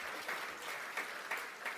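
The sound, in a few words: audience applause at a closing plenary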